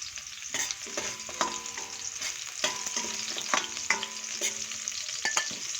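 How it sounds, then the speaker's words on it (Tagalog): Garlic sautéing in cooking oil for Bicol-style pork bopis, a constant close sizzle broken by repeated clinks and scrapes of a spatula stirring in the pan. "Higisa natin siya sa mantika. Ayan o, ginisa na natin sa bawang."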